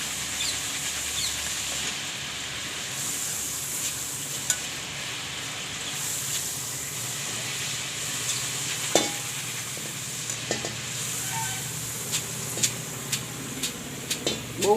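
Dal fries in hot oil on a lowered gas flame for green chevdo, a steady soft sizzle and hiss with occasional stirring clicks and scrapes, close by and uninterrupted by talk.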